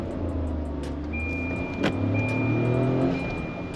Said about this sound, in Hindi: यहाँ पर हम लॉन्च करते हैं कार को, रेविंग टिल 5000 आरपीएम